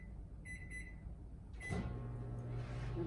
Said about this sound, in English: close it up and put it in the microwave.